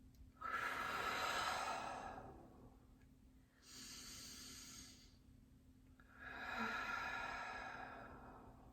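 Slow, deep breaths during an upper body stretch, three long airy exhalations separated by quiet pauses, close to the microphone.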